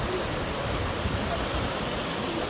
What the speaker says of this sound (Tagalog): Marrakech na waterfall.